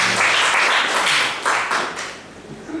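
A church congregation applauds steadily, a dense wash of clapping that swells and fades slightly over a few seconds, with no voices over it.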